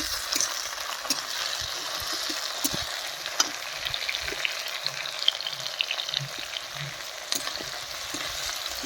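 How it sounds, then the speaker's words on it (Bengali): Chopped tomatoes fry in a pan with a steady sizzle and occasional scraping and stirring clicks, close by and without any talking. "টমেটোটা একটু ভালো করে ভাজা ভাজা করি"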